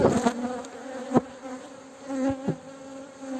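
Bees buzz from an aggressive beehive, a close, steady drone with a few sharper passes of single insects near the microphone and no talk.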